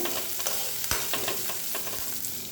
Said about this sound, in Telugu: పోపు వేసాను పచ్చిమిరపకాయలు ఉల్లిపాయలు తరిగి వేసాను